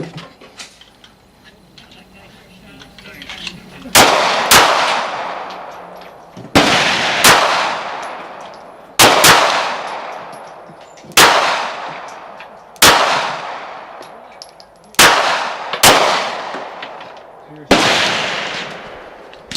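Nine sharp pistol shots from a Taurus TCP .380 ring out at a steady outdoor range, each crack followed by a bright metallic ring off a steel target, spaced about a second apart.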